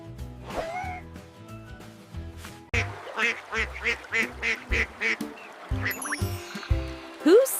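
Duck quacks repeat in a steady, rhythmic series over a bouncy backing track in a children's animal sound quiz, loud and close, with a few brief squeaky effects near the end.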